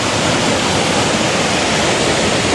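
A river flows past outside a window, heard as a loud, dense, unbroken rushing wash that fills the whole moment, with no voices present.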